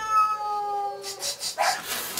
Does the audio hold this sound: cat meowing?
yes